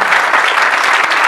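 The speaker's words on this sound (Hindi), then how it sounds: "भाई के लिए तालियां बजा दें।" Loud congregation applause during a New Year's Eve church sermon, a close, dense, continuous patter of many hands clapping for a brief moment.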